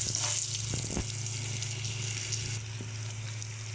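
Spices tempering in a pan over low gas for dhaba-style khichdi, with garlic, ginger and chili: a steady, close, continuous sizzle with a few soft stirring clicks and no talk.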